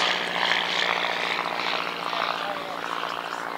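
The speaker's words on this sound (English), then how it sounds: "Pulled through the air with that inverted air-cooled four-cylinder inline piston 130 horsepower engine, De Havilland Gypsy Major Mark 1 engine to be precise." Miles Magister trainer aircraft at Old Warden, powered by an inverted air-cooled four-cylinder 130 hp De Havilland Gipsy Major engine, giving a steady, loud propeller and engine drone with no break throughout.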